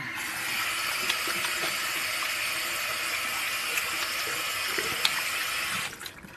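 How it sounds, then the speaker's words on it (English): Kitchen tap running steadily while hands are washed, a continuous close hiss of water into a sink that holds even for several seconds, then cuts off abruptly near the end. "I'll just give my hands a quick wash."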